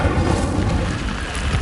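Incendio fire spell from Hogwarts Legacy producing a loud, continuous rumbling roar of flame, deep and dense with crackling texture, holding steady and close for the whole moment.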